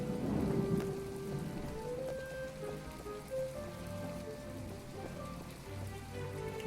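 Steady rain pours down in the video game My Time at Portia, a dense wash of falling drops with faint distant thunder rumbling beneath, no voices present.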